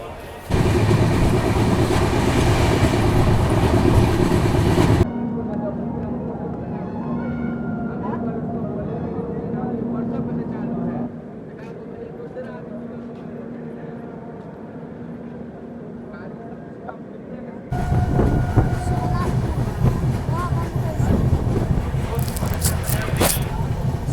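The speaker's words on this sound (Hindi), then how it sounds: "ट्रेन को स्टार्टर दिया चल चुका है छपरा जंक्शन से निकलने के लिए" The 11061 Pawan Express pulls out of Chhapra Junction in Bihar with a loud, continuous rumble of wheels and running gear. The noise eases to a quieter, steadier clatter in the middle stretch, then swells again near the end.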